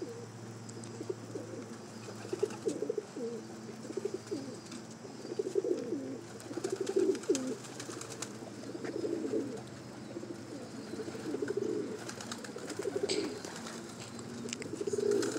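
Racing homer pigeons in a loft coo steadily in overlapping low throaty phrases, several birds calling close by throughout without speech.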